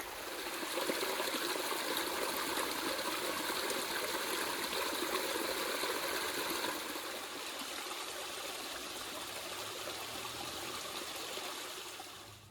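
Stream of water flowing along the Appalachian Trail on a rainy day, a steady rushing and trickling close by, fairly quiet, continuing unbroken with no voices.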